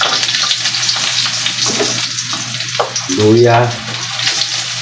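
Garlic and ginger sauté in hot oil in a pan, giving a loud steady sizzle with scraping stirs, while a brief voice cuts in near the end.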